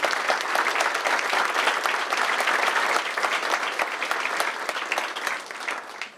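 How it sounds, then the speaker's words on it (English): Sustained applause from a civic audience at a city's State of the City presentation, a steady wash of many hands clapping for volunteers and judges, fading slightly near the end. "A round of applause for all of them, please."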